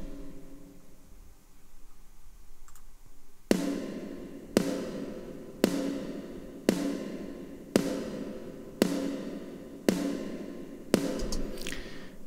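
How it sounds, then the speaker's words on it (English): Soloed snare drum tracks from a mix, with eight evenly spaced, sharp hits ringing briefly after each strike at a steady slow tempo, alone and fairly close. "So if we listen to the snare, it sounds like this."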